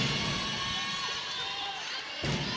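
Crowd of volleyball fans cheering inside an arena at a PVL Reinforced Conference match between Petro Gazz and Cignal, a broad, steady roar that swells again near the end, with a commentator talking over it.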